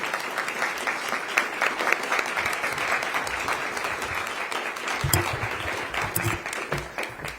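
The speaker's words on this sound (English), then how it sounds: "Let's give the candidates a big round of applause" An audience at a League of Women Voters candidate forum gives a sustained round of steady clapping for the candidates, which stays even and loud for several seconds.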